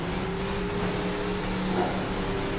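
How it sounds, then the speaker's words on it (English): A car in the Midnight Club 3: DUB Edition Remix racing game holds a steady, droning engine note at high speed under a nitrous boost, loud and continuous throughout. "I did have to use my nitrous there, so I would get back up to speed immediately."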